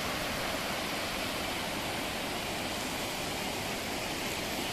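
Heavy downpour over grassland with floodwater flowing, a dense, even hiss of rain and rushing water that stays constant throughout with no breaks.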